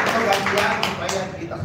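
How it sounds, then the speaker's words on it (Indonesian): Short round of clapping from a group of participants at a village governance training session, a few distinct hand claps mixed with voices talking nearby. "Sekali lagi tepuk tangan untuk kelompok 3."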